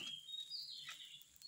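A small bird chirps outdoors near a power pole, giving a thin, steady high call that is faint and distant against quiet background noise.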